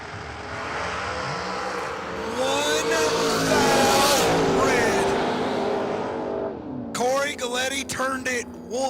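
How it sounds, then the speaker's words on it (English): Dragster at an outlaw drag race at SGMP roaring down the strip, a loud sustained engine blast that swells and fades, with a commentator talking over it and crowd or track noise at the end. "Big speed out of Corey Galletti's dragster this weekend"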